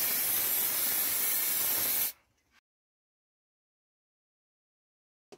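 A spray paint can hisses in a loud, continuous close-up blast while coating a scenery sump wall, then cuts off abruptly, leaving near silence apart from a faint click at the end.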